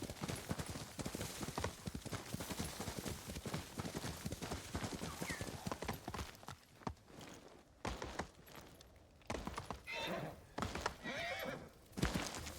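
A horse gallops with rapid, heavy clip-clop hoofbeats and gives loud neighs and whinnies while being ridden in Ghost of Tsushima. The hooves pound on continuously, pause briefly, then resume.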